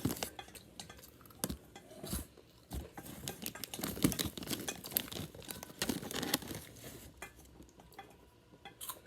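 Slime being mixed by hand in a bowl, giving a busy run of wet squelching, crinkling and clattering contact sounds, close and fairly loud throughout with no talking.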